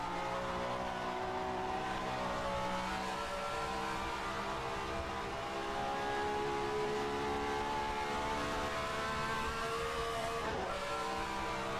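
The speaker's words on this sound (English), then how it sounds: "Engine sound is perfect" A 1967 Formula 1 race car engine in a racing game at Old Spa roars steadily and loudly throughout, with sustained high revs and harmonic whine shifting slightly as the car is driven through corners.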